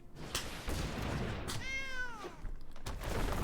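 A cat gives a single drawn-out meow in a room, rising then falling, over steady background noise and a few dull thumps.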